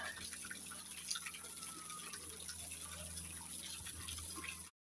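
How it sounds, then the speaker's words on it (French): Small garden fountain at Marqueyssac gardens, water splashing and trickling steadily and softly throughout, a continuous faint wash with a light high hiss, no talking. "Il y a une petite fontaine. J'adore le bruit de l'eau."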